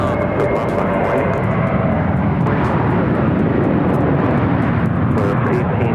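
An American Airlines jet takes off from runway 7 left at Phoenix airport, its engines producing a loud, sustained broadband roar throughout, with radio-style voices faintly over the top.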